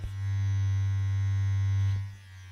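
A cheap sonic toothbrush hums with a steady, close electric buzz for about two seconds, then cuts off abruptly.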